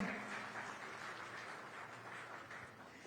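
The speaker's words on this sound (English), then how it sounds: "huge round of applause for Konrad" Audience applause for a presenter at the ET NOW Global Business Summit 2025, a steady, even wash of many hands clapping in a large hall, moderately distant and sustained throughout.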